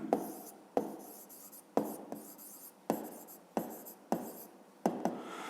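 Handwriting calculations for an 8th-grade physics heat exercise: close, scratchy pen strokes in about eight quick bursts, each starting with a sharp tap and trailing off, with no talking over them.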